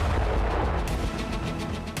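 A Ratel ground drone carrying a 35 kg payload blows up a bridge in Donetsk, giving a heavy, rumbling distant blast that fills the whole stretch, with a few sharper cracks near the end.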